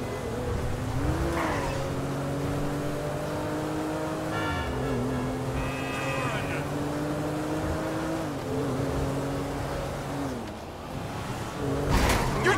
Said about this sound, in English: You're driving like a psychopath, Michael!